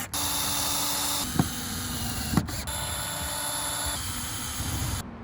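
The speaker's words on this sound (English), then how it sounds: "we're going to drill them in" Power drill driving screws through wooden axe-throwing target boards, a steady loud whine running throughout with two sharp thuds as the bit seats, then cutting off abruptly at the end.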